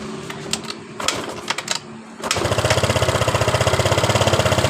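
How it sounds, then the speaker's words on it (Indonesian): A Yamaha Mio Sporty scooter engine is cranked after an ignition, fuel and compression check: a few clicks and rattles, then the engine catches and settles into a steady, close, rapidly pulsing idle. "Motor hidup dengan normal seperti ini"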